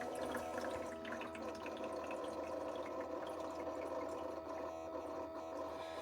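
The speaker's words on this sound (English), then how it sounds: "You'll hear the water running and dripping." A EUHOMY countertop ice maker, model IM-06D-HM, runs with a steady mechanical hum while water trickles and drips inside it, quiet and close, with no talking.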